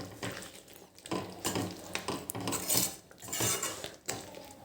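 Chora gravy curry stirred in a pot after fresh coriander goes in, with close, busy clatter and scraping of a spoon against the metal pot and a soft simmering sound beneath.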